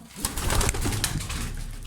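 Pigeons of a fancy breed, American Show Racers among them, coo and rustle close by in a loft, a dense run of soft, repeated calls at moderate loudness without any speech.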